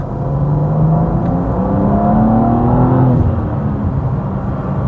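A BMW M2 G87 coupe accelerates away in comfort mode, its engine note rising steadily in a smooth, continuous pull that stays loud and close for the whole stretch, with no speech over it.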